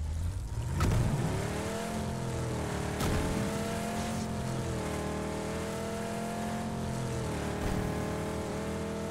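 Car driving in PUBG, a steady engine hum with rising and falling pitch as it moves along, continuous and fairly loud with a brief thump near the start and no speech.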